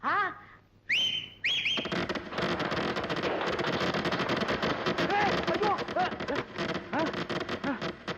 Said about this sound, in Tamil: ஏய் என்னடா அது விசில் வேட்டு சத்தமா?